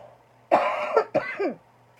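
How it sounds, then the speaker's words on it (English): A short burst of harsh coughing, three or four rough coughs in quick succession, close to the microphone, with no talking. "If this is too much coughing, this video will never see the light of day."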